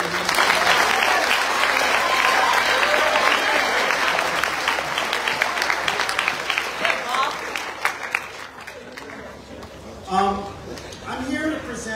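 Sustained applause from an audience at a grade 8 moving-up ceremony honoring the music department, loud dense clapping that thins and fades toward the end.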